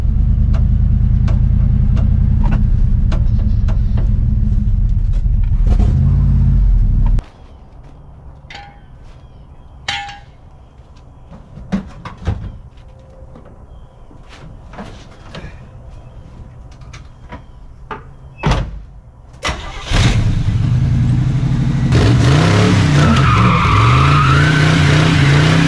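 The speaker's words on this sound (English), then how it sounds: "can we do a burnout?" A long-abandoned 1979 Camaro Z28 roars loudly as its tires spin in a burnout. The engine then drops to a quieter rumble with scattered clunks and knocks before surging again into a loud roar laced with rising tire squeal.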